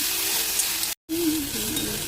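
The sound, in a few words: stirring cooked green banana into spice mixture in pan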